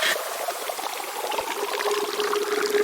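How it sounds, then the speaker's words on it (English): Water poured in a steady stream, a close, continuous splashing trickle with rising gurgle as the vessel fills, heard alone for a few seconds. "I recorded this pouring water sample, which had absolutely no impact to the song"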